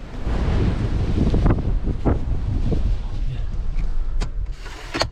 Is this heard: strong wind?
yes